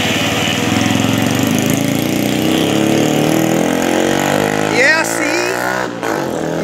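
A broken-down moped engine, just started, runs with a rough buzzing putter close by, wavering in pitch as the throttle rises and falls, with a brief sputter near the end.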